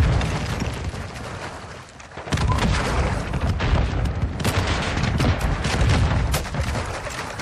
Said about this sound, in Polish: bo będzie strzał z bazuki